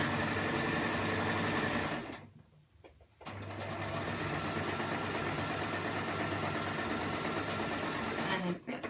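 A sewing machine hums and whirs steadily as it stitches, pausing briefly once before running on continuously.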